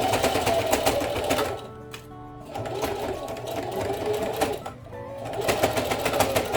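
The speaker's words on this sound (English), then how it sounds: "You're just gonna stitch along the top." A sewing machine stitches along the top of a zipper in fast, steady bursts of mechanical whirring, pausing briefly twice before starting up again. The sound is close and loud.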